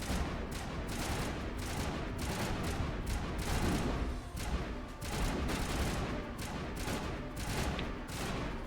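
Continuous automatic weapon fire in a Mass Effect Legendary Edition battle, loud and steady bursts of shots rattling for several seconds with hardly a pause.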